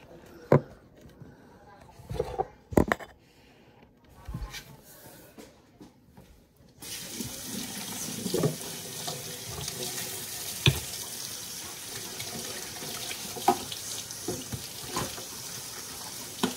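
Tap water running into a kitchen sink during washing, with quiet clinks and speech in the opening seconds, then a steady louder rush of water with occasional dish knocks.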